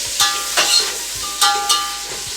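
Onion, green chili and tomato frying in a pan for biryani, heard up close as a steady sizzle. Several sharp bursts of spatter and stirring scrapes break through it.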